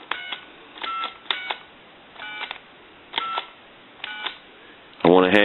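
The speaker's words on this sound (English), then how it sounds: "I'll just say I'll dial my shop number." Touch-tone keypad dialing on a brushed stainless Ericofon reproduction telephone: short clusters of DTMF beeps in an irregular rhythm, close and clear, ending with a louder burst of tone.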